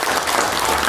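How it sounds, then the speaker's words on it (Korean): Under a minute of steady, dense clapping fills a large auditorium at an award ceremony, a continuous loud wash of applause from a big audience. "여러분 큰 박수 부탁드리겠습니다."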